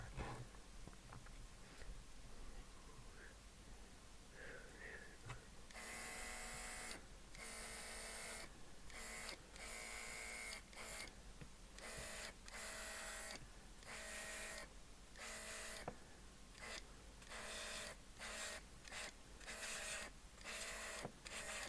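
Airbrush spraying white and red paint onto an Italeri BR41 model locomotive: quiet hiss at first, then a run of short, sharp bursts of spray starting and stopping in quick, irregular pulses, close by.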